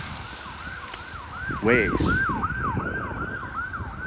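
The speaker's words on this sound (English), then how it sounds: "sirens have certainly taken over this video so far" Emergency vehicle sirens wail and yelp in a steady repeating rise and fall, loud and nearby over street noise on a Toronto side street, with a brief word spoken.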